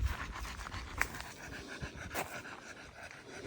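A dog on a leash panting fast and rhythmically while pulling hard on a walk in Nfinda, close by and fairly quiet, with some rustling and movement noise around it and no talking.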